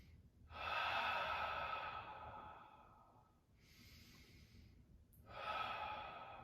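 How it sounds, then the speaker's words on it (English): Deep, slow breaths during a floor core exercise: two long inhales or exhales with a shorter one between, close and fairly quiet, with no talking. "Deep breaths."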